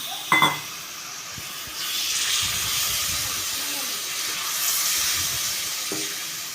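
A brief clatter, then a steady broad hiss and sizzle as hot water hits sizzling egg roast gravy in a pan, continuing with stirring noises.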